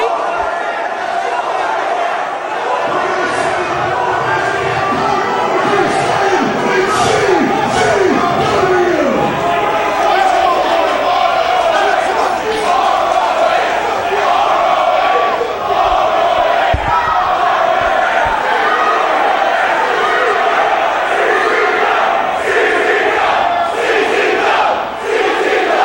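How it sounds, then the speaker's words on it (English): A big wrestling arena crowd roars, cheers and shouts in waves, loud and continuous, with scattered chants and occasional thumps while commentators talk over the din. "Listen to this crowd, Eric. They've spoken."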